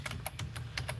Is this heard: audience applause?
no